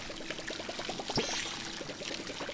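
Plants are watered in the video game Palia: a steady splashing pour with quick rhythmic pulses runs throughout, soft and close, with no talking.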